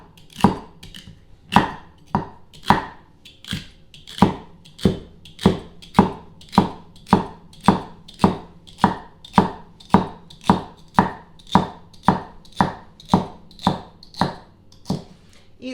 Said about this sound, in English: you're going to chop up the celery first